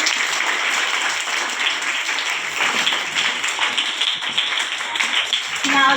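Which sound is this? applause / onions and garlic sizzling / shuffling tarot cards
applause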